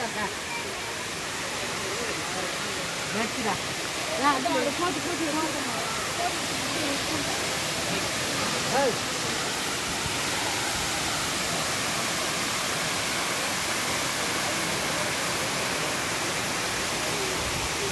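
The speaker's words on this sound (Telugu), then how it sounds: "ఇంత కొండలపై ఎత్తు నుంచి ఇంత అద్భుతంగా పడుతున్నాయి వాటర్." A loud, continuous roar of water falling from a high hillside waterfall, with a faint voice speaking underneath early on.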